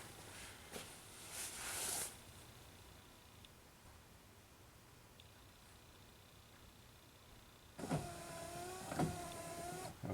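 A Subaru rear wiper motor, worn and drawing too much current, runs on intermittent speed: a short whirring sweep near the start, a long quiet pause, then louder whirring strokes near the end, with no talk.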